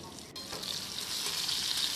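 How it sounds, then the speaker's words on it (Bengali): Continuous crackling sizzle of potatoes frying in hot oil under a lid, steady and close, with a brief stirring scrape near the start. "এভাবে ঢাকা চাপা দিয়ে আলুটাকে বেশ লাল মুচমুচে করে ভেজে নিতে হবে।"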